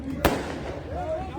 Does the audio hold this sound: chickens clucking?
no